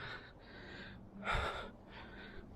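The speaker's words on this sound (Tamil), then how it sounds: "பயங்கரமாக மூச்சு வாங்குதுங்க." Heavy panting from a person climbing a steep hill toward the Pazhaveli Shiva temple near Chengalpattu: three close, ragged breaths, the middle one a louder gasping heave, with no speech.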